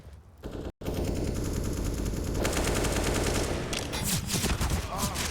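Rapid gunshots exchanged on the Nuke map in a professional Counter-Strike match, loud bursts of automatic fire traded back and forth after a short gap, with a caster talking underneath.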